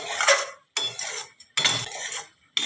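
A ladle scraping and clinking in a pan as moong pulis fry, heard as three separate bursts of close metallic stirring with short pauses between them and no talk.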